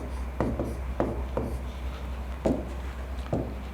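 Chalk or marker strokes on a classroom board, several distinct scratchy bursts spaced irregularly over a low steady hum, with no talk.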